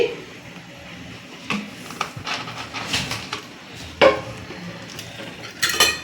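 Drained pasta tipped from a pot into a large bowl in a home kitchen, with clinks and knocks of metal cookware and utensils in uneven bursts, close and fairly loud, no talking.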